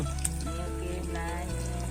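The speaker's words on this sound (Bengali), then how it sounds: "এই দেখো মা মাছ ভাজছে গো" Fish frying in a pan gives a steady close sizzle with a faint crackle, running evenly throughout with a low hum beneath.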